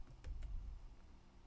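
A few quick, light taps on a computer keyboard, close but quiet, with brief clicks spaced irregularly.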